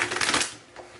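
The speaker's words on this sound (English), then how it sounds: "Sometimes I just go into a trance and I forget that I'm still shuffling the cards." Tarot cards are shuffled by hand in one brief, close riffling burst that fades quickly, with no talking.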